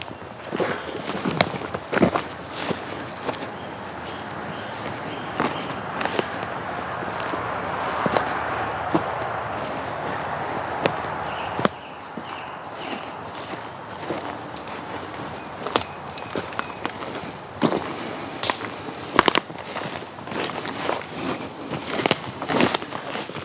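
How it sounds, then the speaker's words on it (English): Footsteps crunch over twigs and dry forest litter in woodland, with irregular close snaps and cracks scattered through a soft, quiet outdoor background, unhurried and without talking. "So you can hear the twigs snapping as I'm walking on them."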